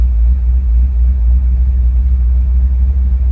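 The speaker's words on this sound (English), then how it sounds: "The idle is absolutely fantastic." A 1964 Buick Wildcat convertible's V8 engine idles, a deep, throbbing rumble up close, a low even burble with no voices.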